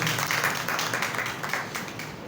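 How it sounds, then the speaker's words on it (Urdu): A church congregation applauds loudly, a dense burst of many hands clapping together at close range that tapers slightly toward the end. "آئیں زوردار تالیاں ہم خدا کے پاک روح کے لیے بجا دیں۔"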